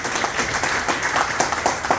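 A crowd clapping at a birthday celebration with cake cutting for the Prime Minister in Indore, a steady dense patter of many hands applauding at moderate distance, continuous through the short moment.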